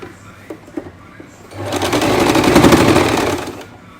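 Sewing machine running a double line of stitching along a pants waist, starting after a few faint clicks and whirring steadily and fairly close for about two seconds before stopping.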